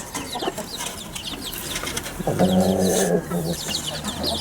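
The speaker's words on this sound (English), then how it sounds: "So what I'm going to do now is simply let the hen and the chicks out." A hen and her chicks cluck in a backyard pen, soft peeping and chatter throughout with a louder, throaty hen call in the middle, over steady outdoor background noise.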